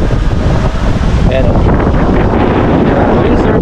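Strong wind buffets the microphone at Bulabog Beach in Boracay, a steady broadband roar filling the whole stretch, with a person speaking briefly over it.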